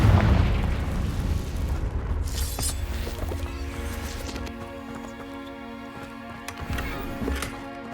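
Blasting spell explosion in Hogwarts Legacy, a loud boom at the start that decays into a rumbling tail, followed by softer game effects and a lingering tonal hum.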